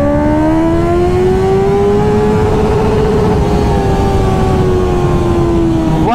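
Honda CBR 650R motorcycle accelerating hard in second gear, a loud steady engine note rising then holding high throughout with no talk.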